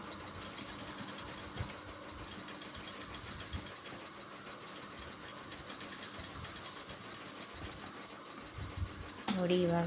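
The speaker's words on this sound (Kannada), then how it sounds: "ಅದರ ಮೇಲಿಟ್ಟು ನೀಟಾಗಿ ಸ್ಟಿಚ್ ಹಾಕೋಬೇಕು" A sewing machine hums continuously while stitching lace onto a blouse, a steady close mechanical drone with faint rhythmic needle beats and a few clicks near the end.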